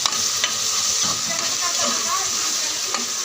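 Chopped tomatoes and garlic sauté in a pan for a spicy Maharashtrian mixed vegetable dish, giving a loud, close, steady sizzle and hiss with a few light stirring clinks.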